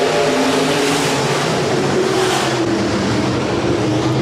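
B-Modified race cars roar around the dirt oval at Rapid Speedway during a night heat race, a loud, continuous wall of engine noise that swells as the pack passes close by.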